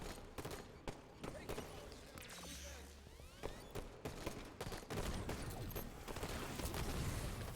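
Video game gunfire crackles in dense, rapid bursts throughout, with scattered sharp shots and mechanical clanks, heard at moderate distance with a faint voice now and then.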